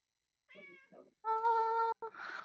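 A hungry cat meows several times up close, with two short, wavering calls followed by a longer, louder, drawn-out meow and a brief final cry, in a quiet room with no talking.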